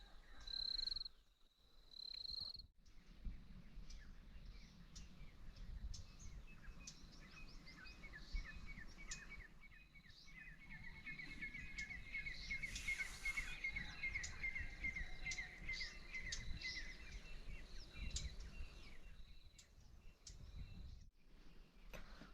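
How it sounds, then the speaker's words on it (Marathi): Birds chirp and trill in the distance at sunrise on a cold November morning, with soft repeated calls over a quiet outdoor background hum. "पक्ष्यांचा चिवचिवाट चालला आहे"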